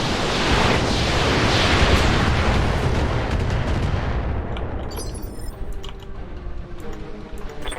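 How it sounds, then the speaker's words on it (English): Weapon fire in the RogueTech mech game, heard as a heavy, dense blast that roars and rumbles for several seconds, then fades into a thinner crackling tail with scattered sharp clicks. "I did not realize that that was a shot"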